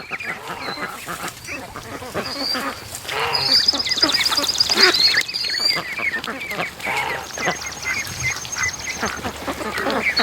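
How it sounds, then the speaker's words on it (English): Young ducks quack in bulrushes, a busy chorus of overlapping calls and chirpy peeps mixed with rustling, with a few sharper, louder calls standing out nearby. "But there's a whole bunch of young ducks down here."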